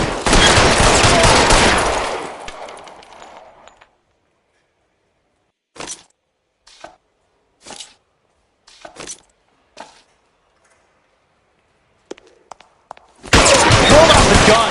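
Gunfire in L.A. Noire opens with a loud, sustained volley, then scattered single shots and short bursts spaced out in near silence, before another heavy barrage erupts at the end.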